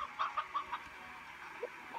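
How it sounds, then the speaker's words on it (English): A rooster in the video game Slime Rancher clucks in a quick run of four or five short, bright calls, then gives a couple of softer clucks after a pause, clear and close with no talk over it. "Wait, is that the rooster I put in earlier?"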